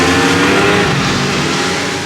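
A snowmobile engine revs hard and roars steadily up close, a harsh high-pitched motor drone with no voices.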